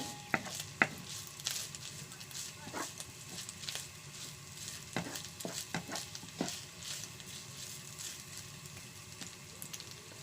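Vegetables sauté in a pan for a smoked fish recipe, a quiet continuous sizzle with scattered stirring scrapes and clicks, faint and without speech.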